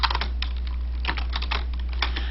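Rapid clicking of keys on a computer keyboard while code is written in Eclipse, an uneven patter of close, crisp taps over a low steady electrical hum.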